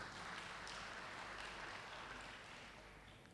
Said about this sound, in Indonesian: Tepuk tangan buat Tuhan Yesus Kristus.